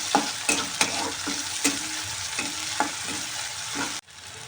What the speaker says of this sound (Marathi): आता टोमॅटो घालायचे. आणि टोमॅटो लवकर व्यवस्थित परतायला गेलं पाहिजे